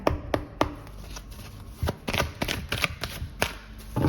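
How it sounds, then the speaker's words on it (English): Tarot cards get three quick knocks, then a run of papery flutters and soft slaps as the deck is shuffled by hand up close. "I will knock on my cards 3 times and then shuffle"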